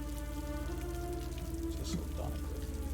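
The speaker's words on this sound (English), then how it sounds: "the rain continues to beat down" Rain beats down as a sound effect, a faint steady patter of drops on a surface under a low continuous hum, with no clear speech.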